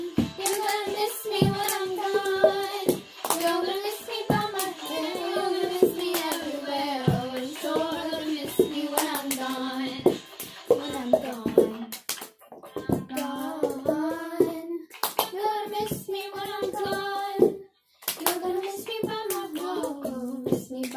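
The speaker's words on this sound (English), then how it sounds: "Cup song." Cup song rhythm played with hands clapping and cups tapped on a surface, a steady repeating pattern of claps and knocks under a sung melody, close and loud throughout.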